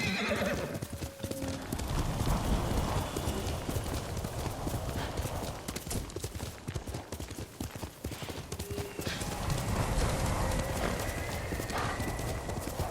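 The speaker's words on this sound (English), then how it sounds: "You're a good horse, Kage." Horse hooves clip-clop steadily in the video game Ghost of Tsushima, a rhythmic trot close by, with whinnies and neighs breaking in over it and a voice speaking briefly.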